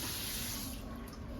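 Water from a household tap pours in a steady, continuous rush, quiet and unbroken throughout.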